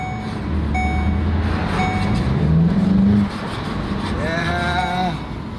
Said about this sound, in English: The GTI is driving.